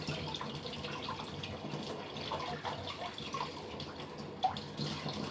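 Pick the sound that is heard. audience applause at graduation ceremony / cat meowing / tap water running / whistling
tap water running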